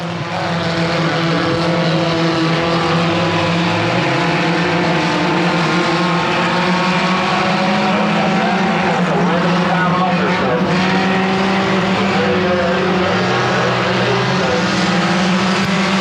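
Dirt-track race cars at Lonestar Speedway roar past in a continuous loud engine drone with rising and falling pitch as they circle the oval, while an announcer talks over the noise.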